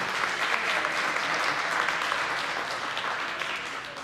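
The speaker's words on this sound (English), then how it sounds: "Give yourselves a round of applause." Steady applause from athletes and spectators at a ninja obstacle competition awards ceremony, a dense, continuous wash of clapping that holds at a fairly loud level throughout with no one speaking.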